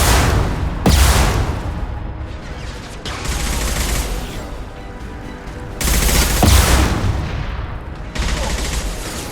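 Rapid gunfire in the video game Mass Effect 2: repeated dense bursts of shots, loud and close, with short pauses between the volleys and no talk over them.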